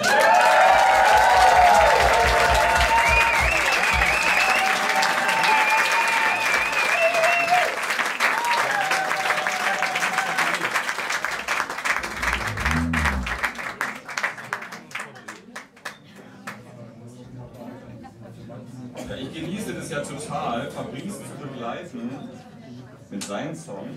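An audience at the Hafenbar Tegel applauds to welcome a performer, with sustained clapping mixed with voices that thins out midway and then swells again more faintly.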